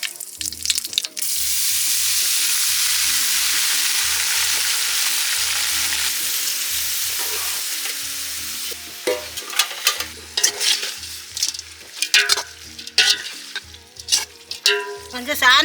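Goat intestine curry with curry leaves and mustard seeds hitting hot oil in a pan in an outdoor village kitchen, a loud burst of sizzling that fades slowly, followed by scraping and stirring clatter.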